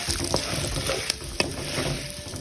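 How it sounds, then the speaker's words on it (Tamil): Curry leaves, chillies and asafoetida sautéing in oil for temple-style puliyodharai, a loud continuous sizzle with a few light taps of a spoon stirring, close up and without speech. "இதை நல்லா வதக்கி விடுங்க"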